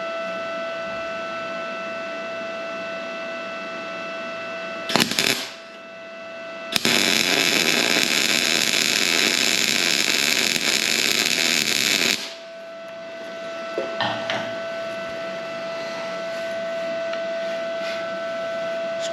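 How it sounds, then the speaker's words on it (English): An Arccaptain MIG 250 welder lays a MIG weld on steel, a loud steady crackling hiss lasting about five seconds over a constant electrical hum, with brief arc bursts before and after, close and with no talk. "Maybe the next two I might just weld them on top of one another and just kind of demonstrate a couple of different welds for you."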